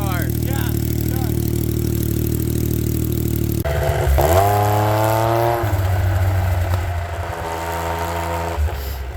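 A Yamaha triple-cylinder snowmobile engine fitted in a Polaris RZR XP idles with a steady drone, then revs sharply and climbs in pitch, holding loud and close before settling back to a rough idle.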